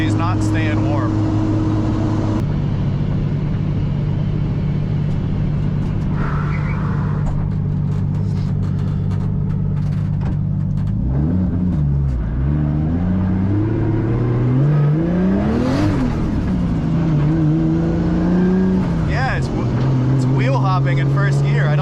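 500HP Nissan 240SX engine idling, then accelerating hard in first gear on a cold night, the loud close drone rising and falling in pitch as it revs; people talk over the engine.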